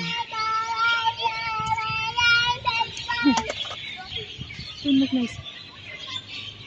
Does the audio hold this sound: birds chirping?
yes